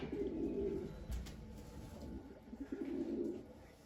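Young tumbler pigeons coo softly in two low, throaty bursts near the start and end of the clip, with no talking and a hushed outdoor background.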